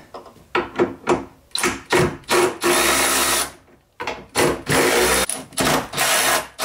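A 13 mm ratchet working Jeep tailgate hinge bolts, rapid clicking bursts in short repeated strokes with brief pauses, close and loud, no talking.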